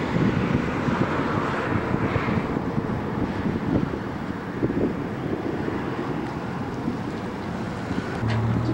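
Constant gusting wind buffets the microphone beside the old I-5 highway, a loud low rumble that barely changes across the whole stretch.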